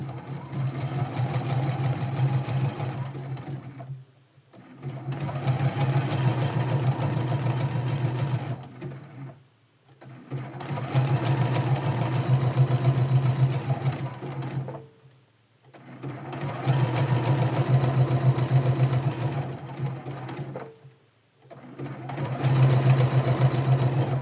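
A sewing machine stitches a quilt in four long runs of steady, fast, loud stitching, each broken by a short pause.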